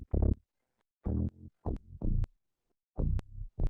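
An electronic bass line pitched down an octave with the Little Alter Boy plugin, heard as short, deep, separated notes in a broken rhythm with brief gaps between phrases, played alone and fairly quiet.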